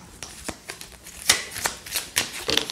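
Horoscope cards are cut and handled as a deck, giving a series of soft, crisp card slaps and riffles spaced irregularly over a few seconds, close and fairly clear.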